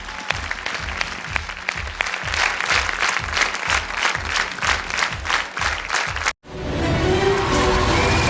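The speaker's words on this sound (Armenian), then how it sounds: "ջերմ ծափահարություն" Warm applause from a television talent-show audience welcomes contestant Gagik Harutyunyan at an X Factor gala, steady dense clapping with a rhythmic beat pulsing underneath for several seconds, then cutting off abruptly into a softer crowd and music wash.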